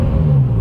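A 2017 BMW M6 engine gives a brief, loud, steady rev with a deep humming growl from close by.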